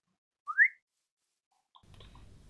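A single short rising whistle from a person sounds clearly against near silence, followed by faint clicking and low rustling noise.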